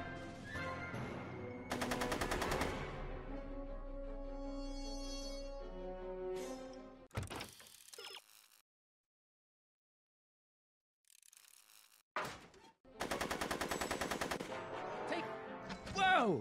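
Gunfire in Back to the Future: The Game, with loud bursts of rapid shots and whizzing bullets broken by a musical sting and a stretch of silence, then another heavy burst near the end.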